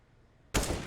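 A grenade in the Counter-Strike video game on the Vertigo map bursts suddenly after a quiet moment, a loud broadband blast that stays strong through the brief remainder.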